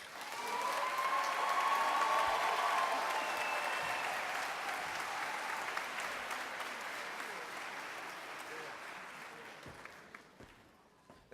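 Sustained applause from a graduation audience celebrating an adult high school and GED class of 2013, a dense steady wash of clapping with a few faint cheers that slowly thins and fades toward the end.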